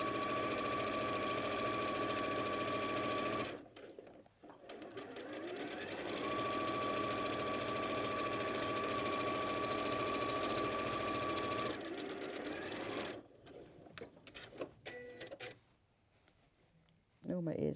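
A domestic sewing machine stitches steadily in long runs, close and loud, pausing briefly near the start and again toward the end where the motor stops and starts in short bursts; a person talks over parts of it.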